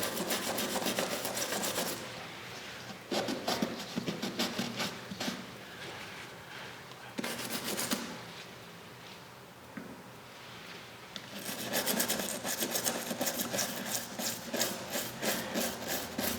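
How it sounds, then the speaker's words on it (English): A brush scrubs dissolved shellac off a wooden Victorian fireplace mantle, producing close, dense scratchy rubbing in long bursts separated by a few quieter pauses. "And get back in there and start scrubbing again."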